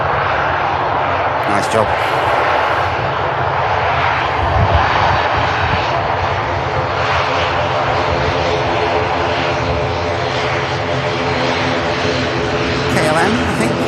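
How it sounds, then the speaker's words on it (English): An ATR turboprop touches down at Manchester Airport, its loud engine drone with steady propeller hum filling the clip close by, while a voice briefly comments over it. "ATR touching down right on the hump."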